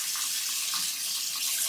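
Tap water runs steadily into a sink for washing, a constant close hiss and splash with no breaks and no voices.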